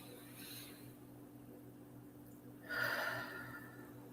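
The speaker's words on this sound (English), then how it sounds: "Let's begin with 3 slow breaths in." A single slow inhalation through the nose, soft at first and then swelling into a clear, close, airy rush near the end over a faint steady background hum.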